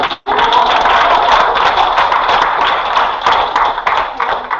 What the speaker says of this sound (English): Round of applause for the husband.